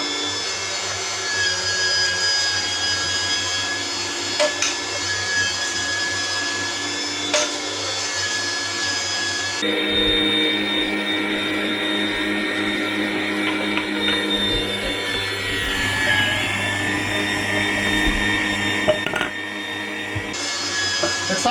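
Electric meat grinder mincing peppers for a sauce, a continuous motor whine with shifting pitch and grinding texture that changes partway through as more pieces are fed in.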